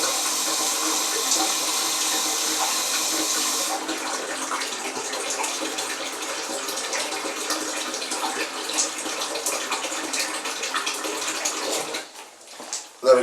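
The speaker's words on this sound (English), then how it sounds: "we'll top that up now to 25 litres" Tap water pours steadily into a home rum fermenting vessel set in a bathroom, topping it up to 25 litres; a loud hissing rush fills the first few seconds, then settles into a continuous burbling fill that tapers near the end.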